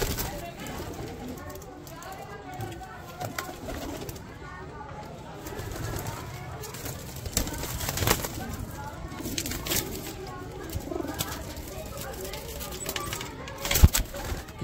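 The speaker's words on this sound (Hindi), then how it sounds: "ये सब घर का कबूतर है" Domestic pigeons coo in a group of about seventy under continuous close talk, with occasional wing flutters and clatter.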